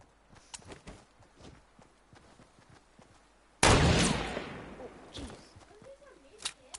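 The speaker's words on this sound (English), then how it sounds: "These guys are shooting at something." A sudden loud burst of gunfire in Fortnite erupts partway through and decays over a second or two, preceded by quieter footsteps and scattered clicks, with a few sharp shots afterward.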